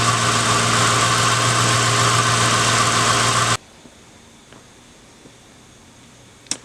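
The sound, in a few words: car engine idling with fuel injector firing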